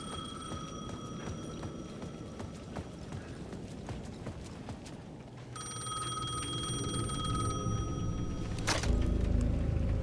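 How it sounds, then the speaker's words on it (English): A payphone rings at the edge of a plaza in Alan Wake 2, repeated bell-like trills over ambient game background, growing louder and busier in the second half. "The payphone at the edge of the plaza was ringing again."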